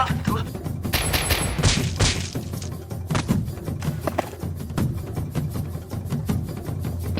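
Nerf guns firing during a staged SWAT-style play battle, a flurry of rapid dull pops and thumps with scattered bursts, near and fairly loud, mixed with shouting voices.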